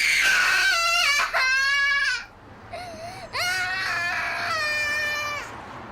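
A young child screams in defiance with shrill, drawn-out wails broken by a short pause, loud and close, with no talking heard.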